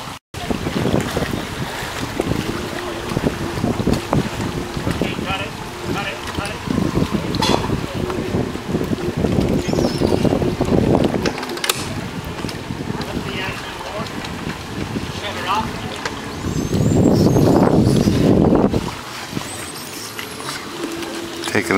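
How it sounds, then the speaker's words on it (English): Boat being pulled out of the water at the Highway 89 ramp on Cooks Bay, with steady wind buffeting the microphone, lapping water and a low motor rumble, swelling briefly near the end; voices talk in the background. "The gentleman will get ready, lining up to get his boat out at Highway 89."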